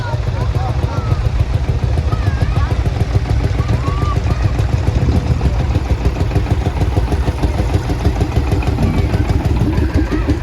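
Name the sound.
Field Marshall tractor engine passing in steam fair parade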